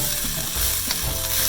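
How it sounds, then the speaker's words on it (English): Coriander gets stirred into a hot cooking pan: a steady close sizzle of frying with scraping, clattering strokes of the utensil against the pan. "we're gonna stir in some coriander"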